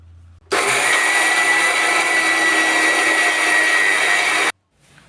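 A kitchen mixer grinder blends soaked rice with cardamom into neyyappam batter, starting abruptly with a loud high whirring roar that holds steady for about four seconds and then cuts off.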